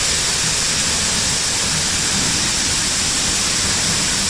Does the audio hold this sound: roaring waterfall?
yes